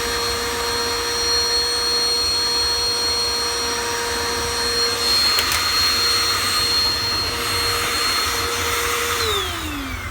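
Vacuum cleaner running continuously with a loud, steady suction roar and a constant whine, dropping slightly in pitch near the end.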